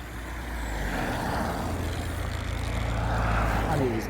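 A WLtoys 144001 RC car fitted with speed-run gears rolling along, giving a steady, fairly quiet whirring drone with a low rumble that slowly rises and falls, heard close and continuous, with no one talking.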